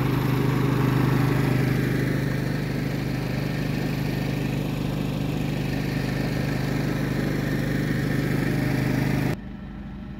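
Propane-powered generator running at a steady, loud, close drone with a constant engine hum, continuing unbroken until it cuts down sharply near the end.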